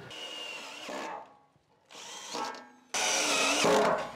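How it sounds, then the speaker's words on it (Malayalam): A power drill driving screws every foot into J trim on a VOX wooden ceiling for a European truss house, three close whirring bursts separated by short pauses, the last one longest and loudest. "ഓരോ ഫീറ്റിലും നമ്മൾ സ്ക്രൂ അടിച്ചു കൊടുക്കണം."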